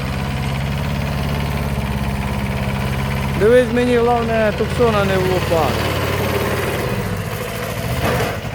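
A Kubota B5001 mini tractor's small diesel engine idles steadily outdoors with a constant low rumble, while a person talks briefly over it partway through.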